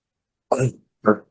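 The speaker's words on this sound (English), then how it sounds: "This is quite a cough, and I apologize." Two short, harsh coughs close to the microphone, the first longer and rougher, the second quicker, separated by a brief pause.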